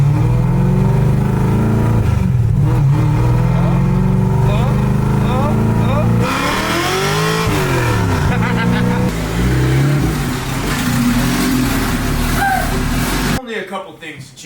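A car called Masutangu on Kumho tires revs hard while driving in third gear and kicking sideways, its engine pitch sweeping up and down loudly and close before cutting to near quiet at the end.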